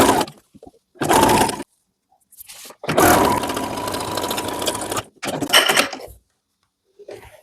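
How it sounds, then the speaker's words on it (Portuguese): A sewing machine stitches a seam on a women's vest in short bursts of fast, rattling whirring, three main runs separated by quiet pauses and a few soft clicks, close and clear. "vou vir fazendo aquela costura até chegar aqui embaixo"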